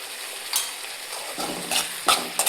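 Lemon and date pickle with salt being stirred in a hot pan, a soft continuous sizzle broken by several scraping strokes and light clinks of a spoon against metal, close and without speech.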